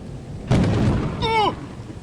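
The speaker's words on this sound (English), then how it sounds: "There's lightning." A lightning strike in a video game sets off a sudden loud, close crack of thunder that rumbles on for a moment, followed by a brief high, warbling tone.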